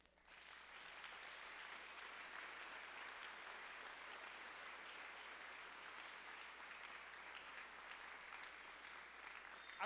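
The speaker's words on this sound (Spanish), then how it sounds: "dele un aplauso al Señor Jesucristo." A church congregation applauds together in a sustained, dense burst of clapping that fills the space evenly from start to finish, with no talking over it.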